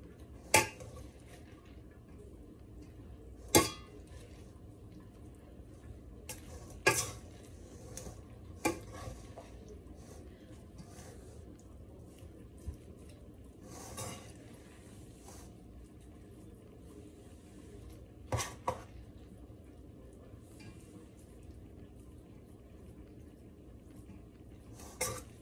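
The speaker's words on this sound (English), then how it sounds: "I'm gonna take the spoon and I'm gonna start to like work it through the tuna, through the macaroni" Sparse clinks and scrapes of a spoon working tuna and macaroni together in a bowl, a handful of sharp taps spread over a quiet, soft stirring background.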